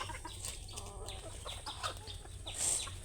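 A chicken clucks faintly in a few soft, scattered notes against a low background rumble, brief and somewhat distant.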